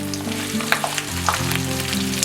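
Garlic, ginger and green chilli sautéing in a pan for Kerala-style prawn pickle, a steady close sizzle and crackle with light stirring scrapes and a few sharp pops, no voices.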